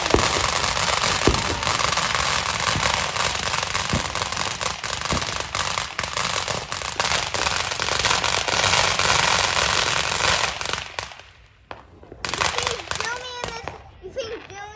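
Fourth of July fireworks bursting and crackling in a steady, dense barrage, with children's voices chattering over the noise before the blasts thin out near the end.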